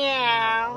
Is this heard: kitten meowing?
yes